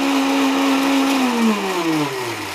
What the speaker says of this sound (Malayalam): മിക്സിയിൽ ഇട്ടിട്ട് നന്നായിട്ടൊന്ന് അടിച്ചെടുക്കുക.